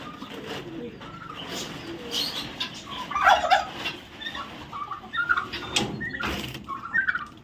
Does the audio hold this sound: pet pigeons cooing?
yes